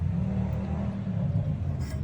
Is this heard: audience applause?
no